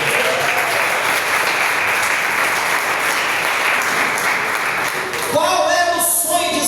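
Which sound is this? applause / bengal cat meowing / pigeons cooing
applause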